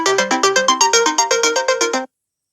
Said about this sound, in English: You can change the ringtone here.